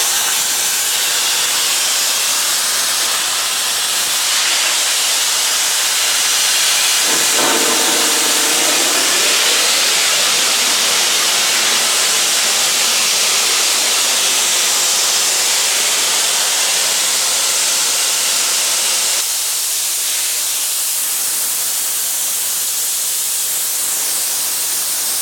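A Stanley Steamer steam car's boiler is blown off, releasing a loud, continuous roaring hiss of steam that surges partway through and then drops back slightly before continuing.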